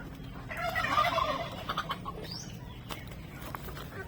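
A pet turkey gobbles in a bursting, rattling call near the start, followed by a few fainter calls and scattered farmyard sounds.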